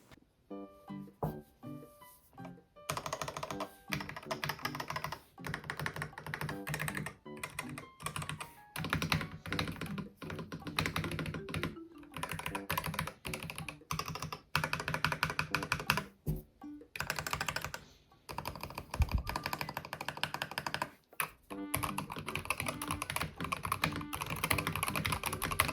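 Stock Yunzii RT75 mechanical keyboard typed on continuously, giving dense, rapid clacks and thocky key strikes in uneven bursts with a few brief pauses, close and fairly quiet, no voice over it.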